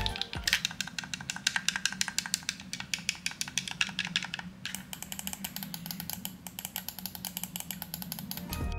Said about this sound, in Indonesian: asiknya bunyi klik tiap tombol tune-nya berbeda-beda